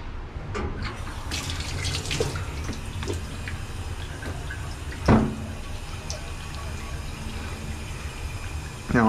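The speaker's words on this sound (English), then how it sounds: "now I'm gonna bring it to the sink and use soap and water" Tap water runs steadily into a sink while an etched print is rinsed with soap and water, with small splashes, clinks and handling knocks close by, and no one speaking.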